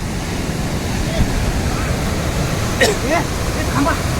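Sea waves wash onto the rocky shore at Malvan's Rajkot Point near Sindhudurg in a steady, wind-blown roar, with voices talking over it.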